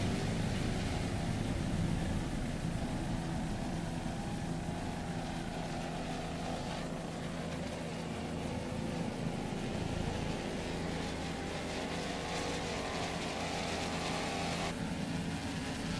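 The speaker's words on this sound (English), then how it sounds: "a 45-foot skater. Mercury powered 2 750-horsepower inboards" A 45-foot Skater race powerboat driven by twin Mercury 750-horsepower inboard engines at the 2002 Key West world championship race, a loud, sustained engine roar and hull rumble that holds steady for the whole stretch with only slight shifts in pitch.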